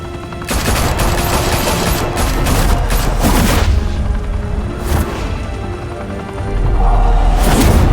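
Sustained gunfire from a Batman game set in Gotham, a dense burst of automatic shots and heavy booms filling the clip at close range, surging louder again near the end.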